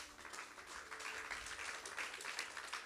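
A church congregation claps and cheers for the Lord during a sermon, a steady, distant wash of applause heard faintly throughout.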